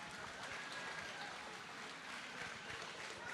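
Crowd at a BTC professional MMA event applauds both fighters in the cage after a three-round bout, with steady dense clapping and cheering that fills the hall at moderate distance throughout.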